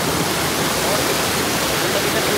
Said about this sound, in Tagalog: Ang pangalan nitong falls na to ay Kilangin Falls.